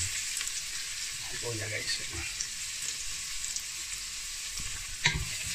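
Garlic, onion and ginger frying in a pan for arroz caldo, a loud continuous close sizzle with occasional stirring scrapes, and a voice speaks briefly over it.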